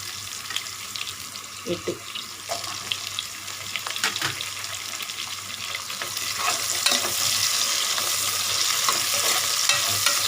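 Green chillies fry and get stirred in a pan for coconut milk pulao, giving a steady sizzle with scraping stir strokes that build louder toward the end, while a voice speaks briefly.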